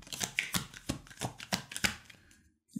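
Tarot cards shuffled by hand in rapid, rhythmic riffles and slaps, about nine crisp bursts close to the listener, then a brief pause and a soft tap, without speech.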